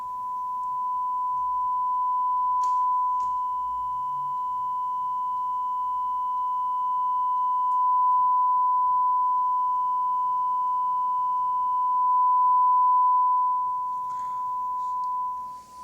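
Steady distorted sine-wave test tone picked up by a home-built microphone, a single unbroken pitch with a harsh, impure edge holding level for the whole stretch, with a brief click partway through and nothing else around it.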